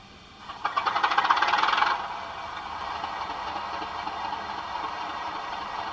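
Sound from a Hornby model train controlled with Hornby Select switches on as a fast rhythmic chuffing burst that lasts about a second and a half. A steady engine idle hum then continues at moderate level.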